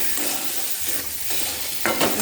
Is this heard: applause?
no